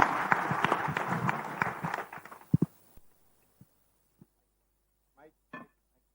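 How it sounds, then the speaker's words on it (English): Audience applause for a panel at a church plenary assembly, dense clapping for about two seconds that thins into a few scattered claps, then near silence with a brief voice. "let us give the panel an applause"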